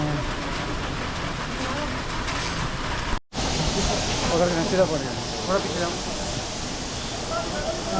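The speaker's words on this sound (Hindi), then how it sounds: "तो बारिश बहुत ज़्यादा हो रही है" Heavy rain falls steadily on a Himalayan mountain trek in the Valley of Flowers, a dense, constant hiss close around the microphone, with a brief dropout and someone talking over it.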